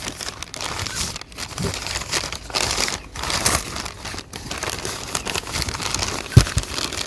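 Ginger being wrapped in a single sheet of paper, giving steady close crinkling and crumpling throughout, with brief tearing-like rustles and one sharper crackle near the end, no talk.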